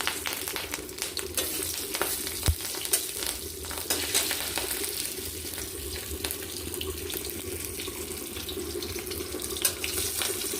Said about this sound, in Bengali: কাঁচা লঙ্কাটা একটু ভেজে নিয়ে